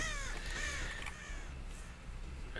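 Crows caw in the Dead by Daylight video game, a few harsh calls close by over a steady, noisy ambient wash.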